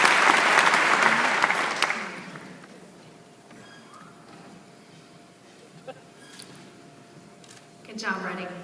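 A civic crowd in Reading applauds loudly for about two seconds, then the clapping falls away to quiet room noise with a few scattered sounds and a voice starting near the end.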